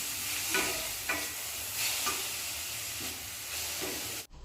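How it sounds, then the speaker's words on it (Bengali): Chopped tomatoes with salt being stirred in a sizzling frying pan, a steady hiss of frying with several scraping strokes of the spoon, close and loud. "এবার সব কিছু আরও একবার খুব ভালো করে মিশিয়ে নিচ্ছি।"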